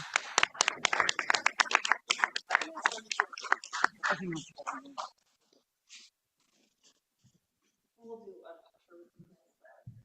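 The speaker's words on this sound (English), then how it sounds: "And let's give them a hand of applause too." A city council meeting audience applauds students in a burst of close, dense clapping that tapers off after about five seconds, followed by quiet and a few voices speaking.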